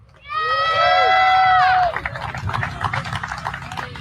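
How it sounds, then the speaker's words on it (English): A rally crowd at a vape rally breaks into applause and cheering, a steady roar of clapping that follows a loud sustained wailing tone, like a horn or whistle, in the first two seconds. "Give a big round of applause."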